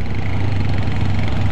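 Bajaj Rouser Boxer motorcycle engine running at a steady idle, close and loud, a continuous low throb with no voices.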